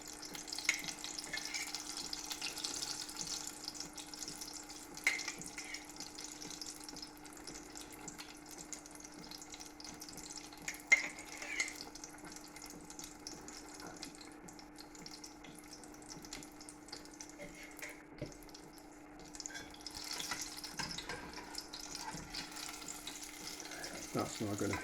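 Spring roll pastry frying in overheated oil, a faint, steady bubbling sizzle with occasional small pops and clinks, continuous under a low hum, with brief background talk.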